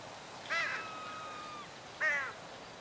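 A crow caws in GTA 5, two harsh, nasal calls about a second and a half apart, the first one drawn out. The calls ring out clearly over a steady low background hum, and nobody is talking.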